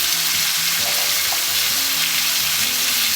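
Chorizo fries in a pan for a sausage and bean stew, giving a loud, steady, close sizzle that lasts the whole time, with no talk.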